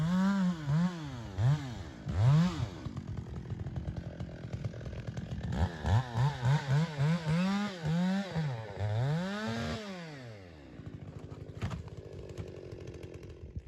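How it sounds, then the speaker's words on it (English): A chainsaw cutting down poplar trees along a wooded path, its engine revving up and down in repeated surges as it bites into the wood, close and loud, then idling down. "Toby took care of that in a heartbeat with the chainsaw"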